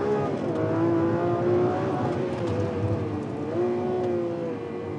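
Supercar doing 0 to 100 km/h in 2.8 seconds with a 355 km/h top speed accelerating hard, its engine pitch climbing steadily, easing off, then rising again, loud and close.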